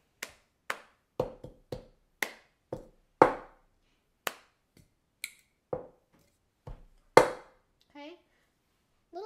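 Cup game rhythm played slowly by hand with a cup: sharp, separate claps, pats and cup strikes spaced out at a deliberate pace, close by, with a brief voice near the end.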